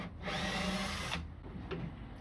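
A power drill backs screws out of a vocal booth flap, one loud close whir of about a second followed by short quieter bursts and clicks.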